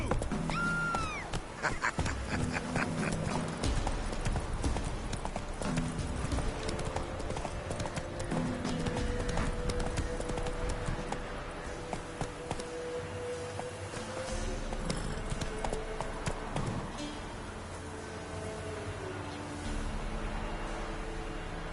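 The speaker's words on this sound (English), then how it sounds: "Come on, Roach. Slow now. Whoa" A horse gallops in The Witcher 3 video game, its hooves pounding out a fast, steady clip-clop that runs loud and close for the whole stretch, with a brief whinny and other game sounds faintly in the background.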